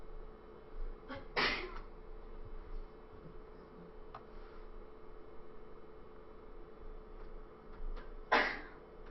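Two short, sharp sneezes, one early and one near the end, each a brief bright burst over a quiet room with a faint steady hum and occasional small ticks.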